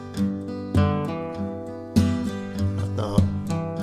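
Sweltering, hot-summer chords played on a harmonic instrument, several struck chords ringing out in a loose, unhurried rhythm, each attack followed by a sustained decay, close and clear with no talking.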